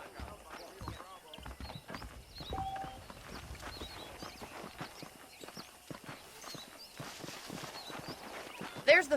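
Horse hooves clip-clop at a steady walking rhythm in the Red Dead Redemption video game, moderately loud, with a voice speaking over the steps throughout.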